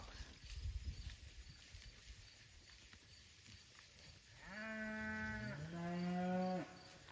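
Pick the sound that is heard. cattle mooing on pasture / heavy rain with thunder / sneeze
cattle mooing on pasture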